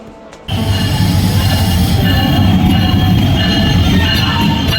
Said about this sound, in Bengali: একটু পর মহানগর এক্সপ্রেস আসবে তখনই আমরা ট্রেনে উঠে যাব